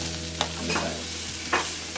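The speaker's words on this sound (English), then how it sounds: "we're going to saute these for about 2 to 3 minutes because we don't want to get them too soft." Vegetables sauteing in a pan for oxtail rasta pasta sizzle steadily while a utensil stirs them, with a few distinct scraping strokes standing out over the constant close frying hiss.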